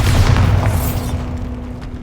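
A booming magical blast from the Bombarda explosion spell in Hogwarts Legacy, one heavy low impact that rolls out and fades over a couple of seconds.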